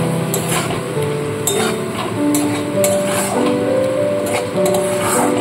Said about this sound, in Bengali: এবার খুব ভালো করে আগে মশলাটাকে কষিয়ে নেব।